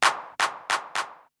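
Four crisp clap samples fired from an AKG MPC Fly pad in a live looping pop setup, sharp bright bursts with brief noisy tails, spaced fairly evenly and heard alone.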